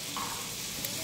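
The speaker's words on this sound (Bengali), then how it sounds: "মরিচটা আমি একটু লাল করে ভেজে নিচ্ছি।" Dried red chilies fry briefly in hot oil with a soft, steady sizzle. It stays faint and even, with a tiny crackle near the end and no talking.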